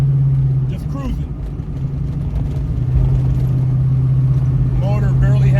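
A 600-horsepower Chevelle drones steadily at freeway cruising speed, its loud, even engine hum running throughout with some road and wind noise layered on top.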